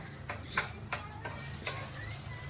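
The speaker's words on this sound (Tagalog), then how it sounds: "gisa na natin ang ating bawang" Garlic sautéing in a pan for pork stomach sisig, a soft steady sizzle with a few light scrapes of a spatula stirring, close and quiet, with no talking.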